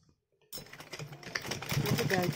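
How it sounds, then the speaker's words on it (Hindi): After a half-second of quiet, a sewing machine starts stitching around a dress made from a saree, its rapid rattling needle strokes steady and close, growing slightly louder. "इस पूरे राउंड में हम सिलाई लगा देंगे"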